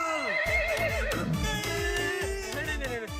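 A horse neighs in a long, quavering whinny that rises and falls, heard close and alone with faint hoof clatter underneath.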